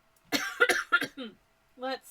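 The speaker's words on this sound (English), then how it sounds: "I'm gonna cough." A voice coughs a few times in a quick, close burst, followed by a brief throat-clearing sound.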